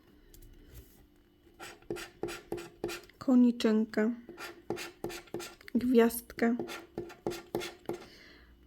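Rapid rhythmic scratching strokes on lottery scratch cards, one after another, while a person talks over them in short phrases.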